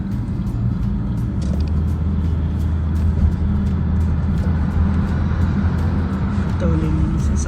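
Inside a car driving on Highway 401 in Ontario, heading toward Scarborough, a loud, steady low road rumble and engine drone continue throughout, with voices talking under the noise.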